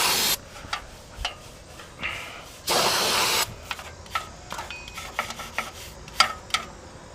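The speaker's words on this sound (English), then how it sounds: "Okay, let's go ahead and spray this down." Aerosol brake cleaner sprayed onto the rear brake assembly of a 2012 GMC Yukon Denali, one long loud hiss near the middle plus several short bursts and pops before and after, close up with no talk.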